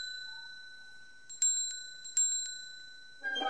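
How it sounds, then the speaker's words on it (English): A small hand bell rings twice in a children's dinosaur story, each ding bright and clear with a lingering tonal ring, set against quiet background with a faint rustle at the end. "She pulled out a bell."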